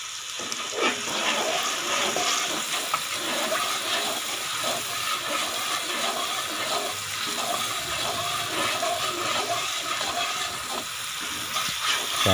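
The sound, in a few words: frying crushed red chili in pulao, stirring with spoon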